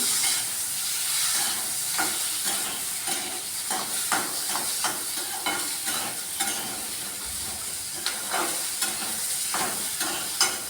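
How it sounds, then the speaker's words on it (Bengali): Grated onion and potatoes fry in a pan, a steady bright sizzle with repeated scrapes and stirs of a spatula close up, no talking. "আলুর সাথে আমি ভাজা ভাজা করে নিচ্ছি"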